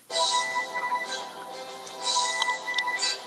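Phone ringtone playing the Superman movie theme, a bright synthetic melody with sustained tones that sounds twice across a few seconds, fairly loud and clear with no talk over it.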